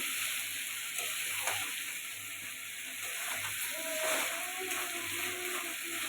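Chicken and potatoes sautéing in an uncovered pan on a low gas flame, giving a steady soft sizzle and hiss with occasional stirring scrapes, fairly close and without talk.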